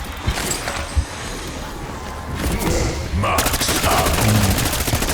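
Bursts of automatic gunfire ring out in Call of Duty: Black Ops 6 Zombies, with rapid repeated shots growing denser and louder in the second half.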